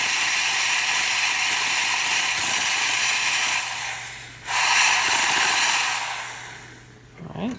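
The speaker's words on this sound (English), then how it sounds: "Get the steam cooking." Steam wand on an Isomac Millenium espresso machine, set near 1.5 bar, hisses loudly and steadily, drops briefly, then surges back before tapering off, with a clunk of the valve at the end.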